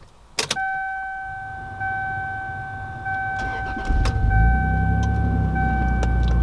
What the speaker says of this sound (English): All right, the car starts.